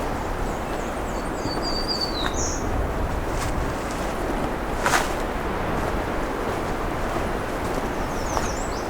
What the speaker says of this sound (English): It's got a little windy here.